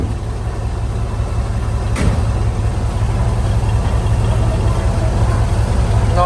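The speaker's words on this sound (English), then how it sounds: "Listen to that freaking engine though." A 1957 Chevy Bel Air engine, started after sitting abandoned for 19 years, runs with a steady, loud low rumble that holds constant close by.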